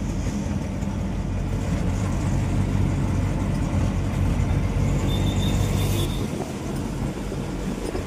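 An auto-rickshaw heard from inside while riding, its engine giving a steady loud rumble with road noise throughout, no talking.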